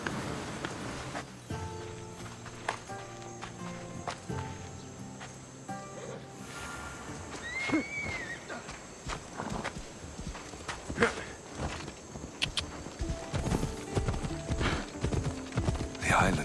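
A horse ridden through the Assassin's Creed Odyssey game world clip-clops along at a steady walking pace, with hoofbeats close and crisp beside an occasional whinny, under game music and some talking.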